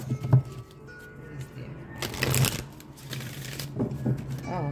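A Power of Love card deck being shuffled close by, with soft papery riffles and a denser flurry of card slaps near the middle, plus scattered quieter handling.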